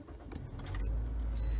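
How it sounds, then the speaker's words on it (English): A car engine cranks and starts inside the vehicle after the doors are locked, with a brief key jingle, then settles into a steady low idle rumble that holds to the end. "And now, we'll turn on the car."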